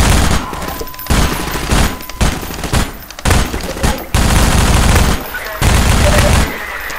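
Loud gunfire from a weapon in the Half-Life 2 video game, sustained automatic bursts broken by short gaps, close and harsh.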